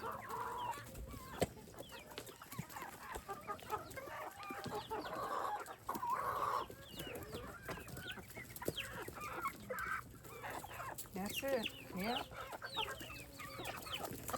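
Backyard homestead chickens cluck and squawk busily while pecking at scattered corn, one small bird running about noisily, with occasional crowing and brief human talk in the background.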